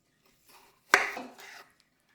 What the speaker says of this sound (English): So you just want to cut cucumber into small chunks.